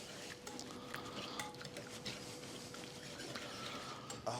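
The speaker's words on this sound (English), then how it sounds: "Let's give this a stir" Cabbage is stirred in a pan, soft scraping and clinking of a utensil against cookware over a faint sizzle, quiet and close, with no talking.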